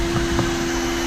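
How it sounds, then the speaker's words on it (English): Dust collection vacuum on a Longmill CNC router runs with a steady, loud broadband whine and a strong constant hum, nearby and unbroken, with no talk over it. "I'll turn on this vacuum."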